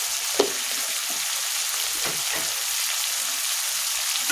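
Chicken meat sautéing with coriander and chili powder, a dense continuous sizzle with a couple of faint stirring scrapes, steady and close.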